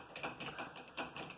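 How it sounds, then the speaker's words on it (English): The fuel pump in an RB25-powered Datsun 280ZX drift car gives off a faint mechanical whir, pulsing about five times in a quick rhythm, heard alone and close. "there's that fuel pump."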